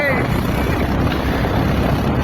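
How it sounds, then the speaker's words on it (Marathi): Cold wind blows steadily across the microphone on a road trip from Pune to Chiplun, giving a constant, loud rumbling roar throughout with no breaks. "गार वारा सुटलाय"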